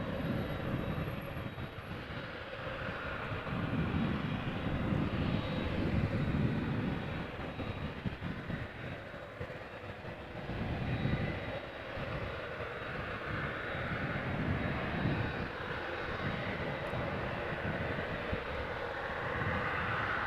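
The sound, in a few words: Boeing 777-300ER aircraft arriving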